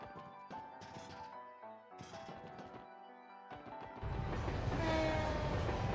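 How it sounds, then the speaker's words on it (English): A train in the video game Trails to Azure rolls past with rising rail noise and a loud horn blast toward the end, over game music and sound effects. "Hey, look at the train!"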